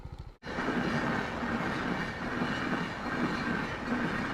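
A train rumbles steadily past close by, a loud continuous roar with rhythmic wheel clatter, beginning abruptly after a brief moment of quiet.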